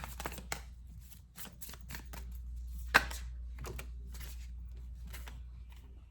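A deck of tarot cards being shuffled by hand, with repeated crisp riffling bursts and card slaps at an uneven rhythm, close and fairly loud with no talk.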